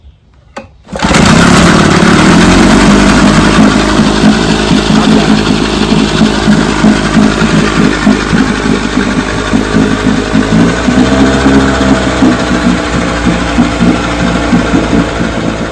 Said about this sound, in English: he finally took a motor from beginning to end and got it running